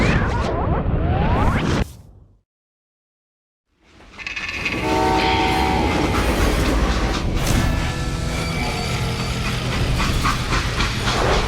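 Freight train in the Call of Juarez Gunslinger video game rumbles loudly with steam hiss and horn-like tones, cut by about two seconds of silence before the roar returns and carries on steadily.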